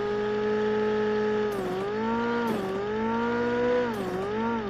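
A McLaren-skinned sports car engine in PUBG Mobile roars steadily, its pitch climbing through revs with three quick dips as gears shift, loud and up close.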